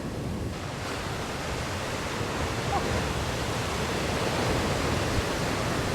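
Small waves breaking near the shore at Coffin Bay, a steady broadband wash of surf that rolls on continuously, moderately loud and close, with no voices.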